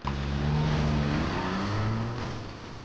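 A car engine rumbles loudly close by and then fades as the vehicle pulls away.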